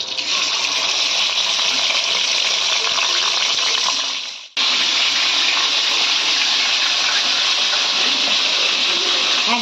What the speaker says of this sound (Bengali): এবার আমরা চিকেনগুলো তেলের মধ্যে এক এক করে দিয়ে দেবো।